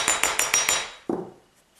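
A hammer strikes a wire jewelry frame five quick times in an even rhythm, bright metallic taps close up, followed by one duller knock that rings out.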